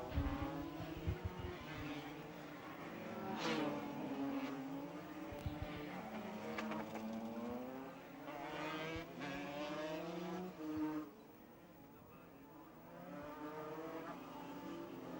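Racing karts at a 1994 Super Series final at Fulbeck whine past on track, engine notes rising and falling in overlapping waves as several pass near and fade, moderately distant and without talk.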